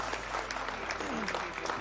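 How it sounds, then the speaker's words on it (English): An arena crowd at the Allied Esports Las Vegas 2019 Rainbow Six event applauds its champions, with dense sustained clapping and a voice talking over it. "please put your hands together for your allied Esports R6 Vegas champions"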